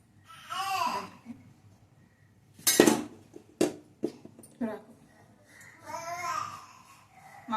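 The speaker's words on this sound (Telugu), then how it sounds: "మా పిల్లాడు అప్పుడే ఏడుస్తాడు, మీకు వినిపిస్తాడు." A baby babbles with rising and falling coos in a home kitchen, heard in short bursts alongside clinks of dishes and cutlery.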